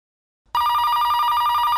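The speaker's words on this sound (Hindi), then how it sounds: "बज रही घंटी, बज रही।" After a brief silence, a telephone bell starts ringing loudly and continuously, a close, steady electronic trill.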